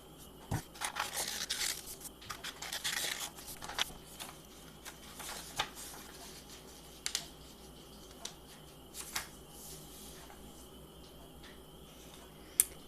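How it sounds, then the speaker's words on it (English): Scissors cutting out paper tulip card shapes: close, quiet snips and paper rustles in irregular bursts, with a few sharper crisp cuts standing out. "So now I'm going to cut those out."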